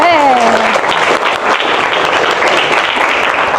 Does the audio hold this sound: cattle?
no